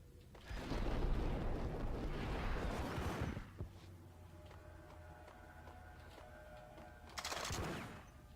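A grenade blast in the Max Payne video game, a heavy roaring burst lasting a few seconds, then quieter rumbling ambience, and a second sharp blast near the end.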